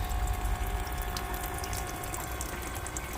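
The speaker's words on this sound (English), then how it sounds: "Yay, I've got running water." Water runs steadily from a small USB-powered tap in a Citroen Berlingo camper conversion kitchen, giving a continuous close trickle and splash with no talking.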